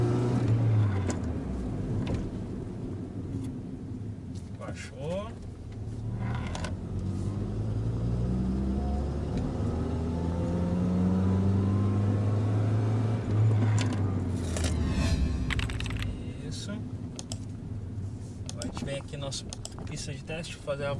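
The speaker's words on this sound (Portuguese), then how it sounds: "Tem um escapamento ali ruimzinho." A 1998 Honda Civic engine with a poor, rough exhaust, heard from inside the moving car as a droning rumble that rises and falls with revs, while someone talks over it.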